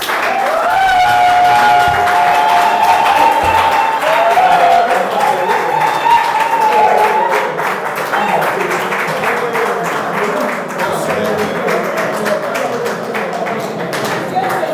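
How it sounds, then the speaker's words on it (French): Audience at a thesis defense for a master's in Protestant theology applauding in a hall, loud sustained clapping from many hands filling the room and easing slightly toward the end. "Si elle vient signer, vous applaudissez."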